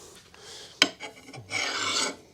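A file rasps along the edge of a cheap axe in a few short scraping strokes, with a sharp knock between them and a longer, steadier grinding pass at the end.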